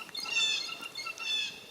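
Small birds chirp nearby in the woods, a few high thin twittering calls in two brief bursts, light and close with faint background rustle.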